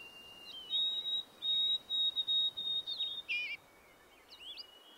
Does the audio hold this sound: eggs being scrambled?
no